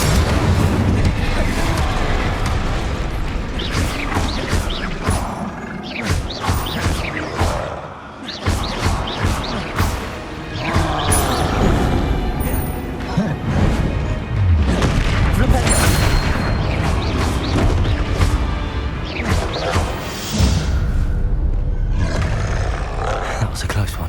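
Loud, dense spell blasts and booming magical explosions from the Confringo spell in the Hogwarts Legacy video game, erupting repeatedly over a roaring battle din with voices shouting amid the chaos.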